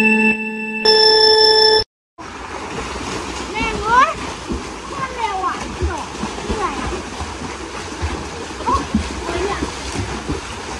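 Swimmers race the length of a swimming pool, churning up continuous splashing and sloshing water. A sustained electronic tone sounds at the start and is cut off by a brief silence, then excited voices shout and cheer over the splashes.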